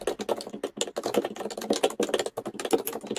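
Rapid, irregular keystrokes on a computer keyboard in a video game scene, a steady run of close, crisp clicks with no talking.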